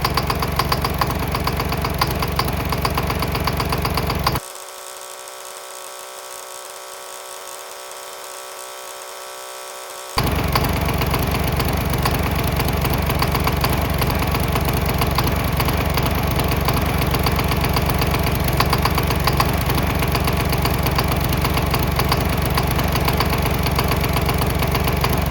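A gas lawn mower engine running on pure diesel, a steady loud mechanical drone; it cuts to a quieter, thinner tone for several seconds midway, then resumes at full level until the end.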